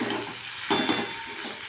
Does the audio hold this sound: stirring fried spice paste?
yes